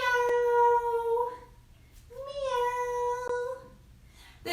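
A voice imitates a cat's meow during a kids' yoga cat pose, two drawn-out, clear meows in a row, close and alone, with a brief sound at the end.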